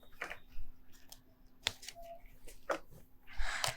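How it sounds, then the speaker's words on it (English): Tarot cards being shuffled by hand, a few separate riffling and slapping bursts with brief pauses between, ending in a longer, denser flutter of cards; fairly close and quiet, with no talk. "So let's give it a shuffle again and see which one falls out for you."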